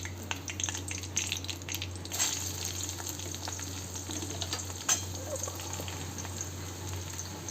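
Onions fry in a pan for a desi chicken curry, a steady close sizzle with occasional crackles and the light clink of stirring, continuing without speech.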